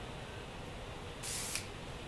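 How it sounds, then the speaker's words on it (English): Hairspray hisses from an aerosol can in a short burst of about half a second, sprayed onto short or mid-length hair during an updo at a salon, close and clear over a low steady background. "A little hairspray there"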